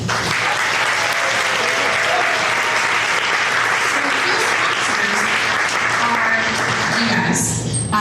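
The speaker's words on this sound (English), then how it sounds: "one more round of applause for our volunteers and for our sponsors" Loud, continuous audience applause for volunteers and sponsors at a startup pitch night, a thick crowd of clapping hands filling the room steadily, with a voice faintly beneath it.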